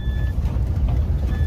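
Warning beeps from a Force Gurkha running low on diesel sound as two steady tones at the start and again at the end, over a continuous low engine and road rumble inside the vehicle.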